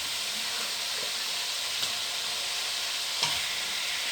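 Fish goes into spiced oil in a wok, producing a constant bright sizzle and hiss at steady loudness, with a couple of faint clinks from utensils near the end.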